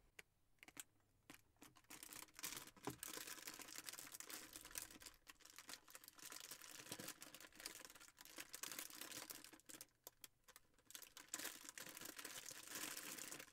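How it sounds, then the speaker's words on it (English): Packaging from a video camera case crinkles and crackles close to the mic in quick, irregular bursts, crisp plastic rustles with short pauses between handlings, no voice over it. "primarily I just want to do some crinkling for you"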